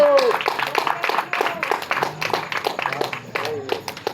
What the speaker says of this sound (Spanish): Dale un aplauso al Señor, alabado sea Dios.